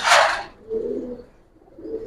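A single fancy coloured pigeon coos in low, soft murmurs, two short bouts following a brief rustling burst of flapping at the start, close by and with no one talking.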